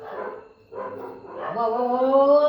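A dog barks and whines in drawn-out, tonal yelps, fairly close, rising into a sustained howl-like cry near the end.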